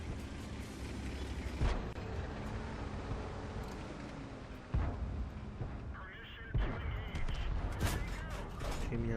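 Tank cannon fire from the T-29 in World of Tanks, with several heavy booming shots against a dense rumbling battle background, fairly loud and spaced a few seconds apart.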